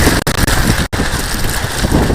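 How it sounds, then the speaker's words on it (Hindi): Strong wind roars across a mountaintop at Brahmgiri, buffeting the microphone with dense, rumbling noise that stays loud and steady apart from one brief dropout. "तेज हवा है"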